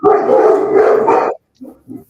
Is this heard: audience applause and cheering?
no